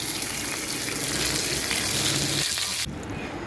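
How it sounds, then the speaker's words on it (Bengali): Pieces of rohu fish, coated in salt and turmeric, are dropped into hot oil and sizzle loudly and steadily at close range, the frying hiss dropping slightly near the end. "তেল গরম হয়ে গেছে, মাছগুলো দিয়ে দিব।"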